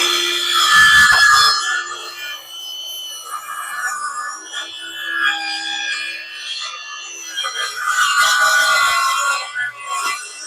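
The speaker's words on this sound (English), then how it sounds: "I'm gonna rip this little 1x6 piece out for some backing for that other, for the plywood." A 1x6 wooden board is ripped lengthwise with a saw for plywood backing, giving a steady, whining cut with rough scraping texture that carries on for about ten seconds, loud and close.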